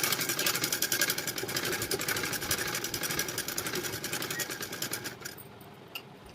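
A sewing machine runs in a fast, steady mechanical chatter while stitching around a blouse neck, moderately quiet, before slowing and stopping near the end.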